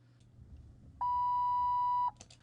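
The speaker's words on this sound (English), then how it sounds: "I don't really like the beep there." A car door chime gives one steady electronic beep lasting about a second, clear and pure-toned, followed by a faint click against a quiet background hum.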